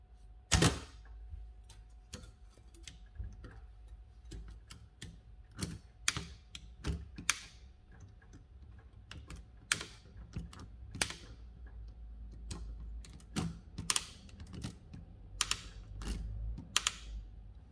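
An Adler 7 typewriter from 1909, its interline lever worked and roller turned, gives sharp mechanical clicks and ratcheting clacks in irregular clusters, close and fairly crisp, with no talk.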